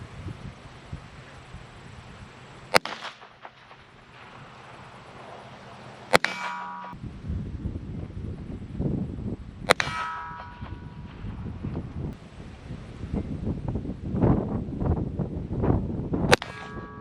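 A Colt .22 Cadet rimfire pistol is fired at a range, plinking steel targets. Four sharp, well-spaced shots each end in a bright metallic ring from the struck steel, with faint outdoor rustle in between.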